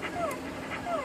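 A female dog whimpers and whines in short high pitched cries while eating, two bursts about half a second apart, close by, with soft background noise.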